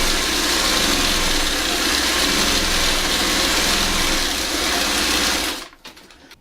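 A sewing machine stay stitching fabric for a birdhouse runs in a steady, loud, whirring hum for several seconds, then stops abruptly, leaving a few faint clicks.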